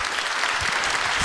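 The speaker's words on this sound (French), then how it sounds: "Merci de l'applaudir encore." An audience at a mayor's 2015 New Year greetings ceremony in Fourmies claps in dense, even applause that runs steadily through the short span with no voices over it.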